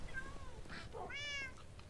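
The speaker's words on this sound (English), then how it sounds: "there is a random cat outside my window" A cat meows outside a window, two short nearby calls with a rising, drawn-out second meow over a low steady room hum.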